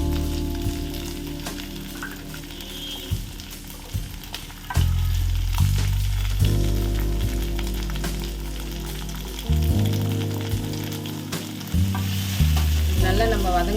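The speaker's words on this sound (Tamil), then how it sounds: "போட்டுட்டு வெங்காயம், பூண்டு இது நல்லா வதக்கணும். எண்ணெயில் இது நல்லா வதக்கணும்." Onion and garlic frying in oil in a pan, a steady sizzle with scraping and stirring noises and occasional clunks of a utensil, close and continuous, with no voices.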